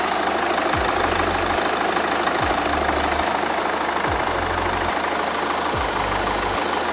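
A BMW X3 xDrive 20d diesel engine idles with a steady, even drone, heard up close in the engine bay, with a low rhythmic pulse recurring every second or so and no talking.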